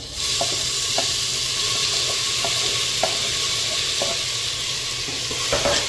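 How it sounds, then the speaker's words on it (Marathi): Tomatoes tipped into a hot frying pan with oil and Kashmiri chili for white matar and aloo chole, a loud continuous sizzle with regular spoon scrapes and taps against the pan, close up and without talk. "आणि आता टोमॅटो, आता घालता टोमॅटो"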